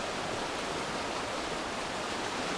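A river swollen after a night of heavy rain roars past in a dense, unbroken rush of white water, loud and steady with no other sounds.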